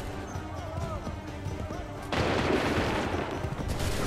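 A musket volley cracks out in the Assassin's Creed 3 video game during a Lexington battle, with scattered shots first and then a dense, loud burst of massed gunfire that sustains to the end.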